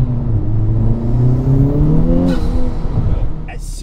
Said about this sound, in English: we are going to test the PRL inlet tube with the high volume intake, and from what I've heard, it's pretty noisy in a good way